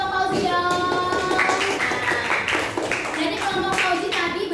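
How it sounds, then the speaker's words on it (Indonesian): A primary-school classroom of children claps for a group's presentation with quick, bright hand claps in uneven bursts, while young voices ring out over the clapping. "tepuk tangan buat kelompok Fauzi dong"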